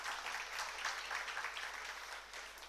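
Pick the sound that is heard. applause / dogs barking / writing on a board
applause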